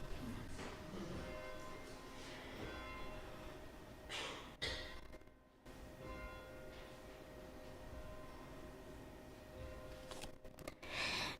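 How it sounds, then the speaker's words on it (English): Church bells ringing before a Unitarian-style worship service, a sustained, steady wash of bell tones and overtones filling the space throughout, with breath-like sounds near the middle and close to the end. "I'm just going to breathe in the bells."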